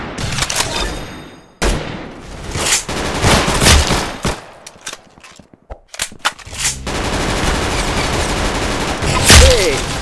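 Rapid bursts of automatic gunfire from the Roblox shooter Arsenal, loud and close, with short rattling volleys broken by brief pauses and single shots, plus a few game effects and a faint voice.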